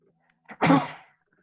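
A single sharp sneeze with a brief inhaled lead-in, close and loud, followed by quiet.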